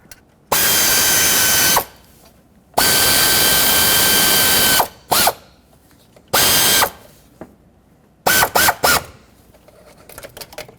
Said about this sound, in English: Put the two bolts in. There we go. Bottom these out